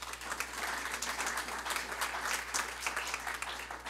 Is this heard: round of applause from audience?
yes